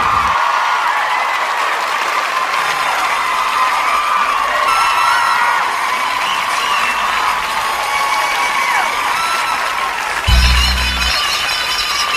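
An audience claps and cheers to welcome a singer at a lively Sunday show, the sustained applause filling the whole stretch, with a brief louder burst near the end.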